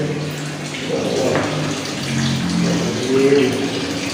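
Spring water from Mount Ciremai running in an old, unaltered bathroom at Linggarjati, a steady nearby flow with people talking over it.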